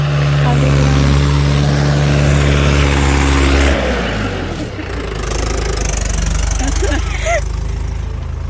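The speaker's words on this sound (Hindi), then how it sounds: "यहाँ पे दोबारा से ट्रैक्टर से इसमें हल चलाया जा रहा था" A tractor engine pulls a cultivator while ploughing a village field, giving a loud, steady droning hum that shifts in pitch partway through as the load changes, with rough mechanical rumble throughout.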